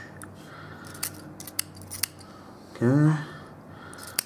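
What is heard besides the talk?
scissors snipping excess cotton wick off a Moonshot RTA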